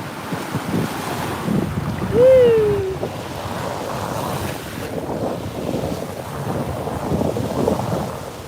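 Ocean waves wash in at a beach with the recordist standing in the water, a broad rushing surf roar mixed with wind buffeting the microphone, and a brief whooping voice cutting through early on.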